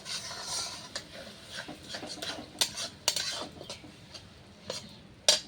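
A ground spice paste stirred into a cooking pan with a utensil, irregular close scrapes and clinks against the metal with a few sharper knocks, no talking.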